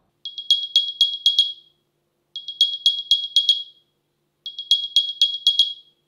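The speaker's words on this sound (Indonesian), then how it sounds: "kalian juga bisa bunyiin case AirPods-nya supaya lebih gampang ketemu" An AirPods Pro 2 charging case speaker plays its find-me chime: three bursts of rapid, high-pitched chirping beeps, each about a second and a half long and separated by short silences, loud and clear.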